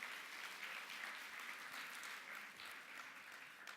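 Steady, dense applause fills a room at a book fair gathering, a crowd of friends of the fair clapping for themselves in a continuous, even wash of sound with no voices on top.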